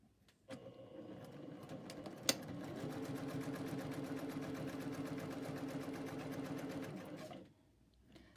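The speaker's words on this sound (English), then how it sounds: "So now all I want to do is stitch down the stitching lines" A sewing machine stitches fabric in one steady, rapid run of even mechanical ticks lasting about seven seconds. It starts and stops cleanly, with a single sharp click near the beginning and no talking.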